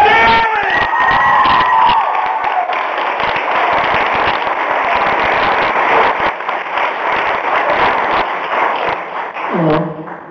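Convention panel audience applauding and cheering, with dense sustained clapping and shouts filling the room for about ten seconds, loud and close, with some whoops early on and a voice near the end.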